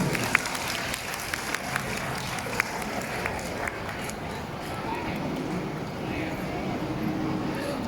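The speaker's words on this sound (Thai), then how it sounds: "อ่ะปรบมือ" A crowd at a school sports day opening ceremony claps, scattered applause heard from a distance with a few sharp louder claps standing out near the start, while a voice talks over a PA.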